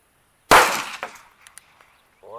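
A single sharp, loud report from a .380 ACP pistol firing Hornady Critical Defense ammunition, close by, with a brief echoing tail and small trailing clatter before a voice begins.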